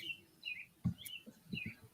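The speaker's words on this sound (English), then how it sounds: "I can hear the birds." A few short bird chirps, fairly faint and distant, scattered over a soft background with a couple of low thumps.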